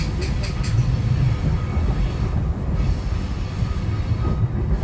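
Steady low rumble of a SEPTA commuter train rolling along the former Pennsylvania Railroad branch from 30th Street Station toward Chestnut Hill West, with faint wheel noise and a soft hiss throughout, close and continuous.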